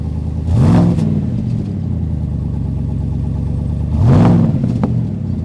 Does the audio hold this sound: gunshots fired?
no